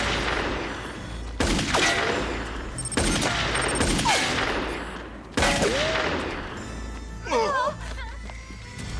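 Gunfire in a French-dubbed sci-fi film scene: repeated bursts of rapid shots and loud blasts with ricochet-like whines and echoing tails, heard over music and scattered voices.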